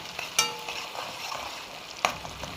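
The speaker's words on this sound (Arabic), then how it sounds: "هفضل اقلب فيها." Tomatoes fry in a pan while a utensil stirs them, a steady close sizzle broken by two sharp scraping clinks of the spoon against the pan, with no one talking.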